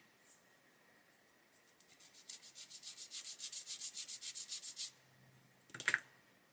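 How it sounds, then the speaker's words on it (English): A sanding stick worked back and forth on a small plastic part from a 1/32 scale HKM A-20G Havoc model kit, giving a rapid series of short, close scratchy rubbing strokes followed by a brief tap. "So I'm going to grab a sanding stick."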